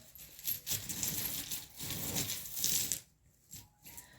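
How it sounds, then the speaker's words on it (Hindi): Small charms are taken out and dropped during a tarot reading, making quiet clinking and rattling clatter for a few seconds before falling nearly silent, with a couple of faint later taps. "तो कुछ चार्म्स निकाल लेंगे यहाँ पर"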